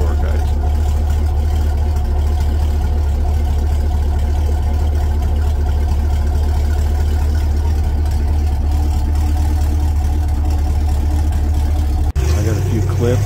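An LS-swapped Chevrolet C10 squarebody pickup's V8 rumbles loud and close in a steady, deep drone that holds for about twelve seconds before cutting off abruptly.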